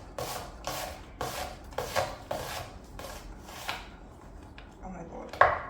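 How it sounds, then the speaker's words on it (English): A knife chops onions on a board with about eight rhythmic strokes, each a crisp close-up rasp, followed by a few softer scrapes and a final sharp knock. "You can progressively see my chopping's getting worse"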